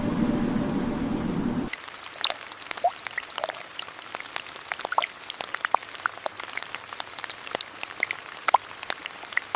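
Heavy tropical rain falls in scattered, crackling drops and splashes on a surface, preceded by a brief low rumbling wash at the start; the patter continues steadily and fairly close throughout.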